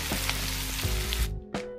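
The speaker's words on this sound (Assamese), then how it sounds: "এতিয়া আকৌ বিলাহীখিনি গলালৈকে মই ভাজি লওঁ" Steady sizzling of food frying in a hot pan, with occasional stirring scrapes and a brief dip in the hiss near the end.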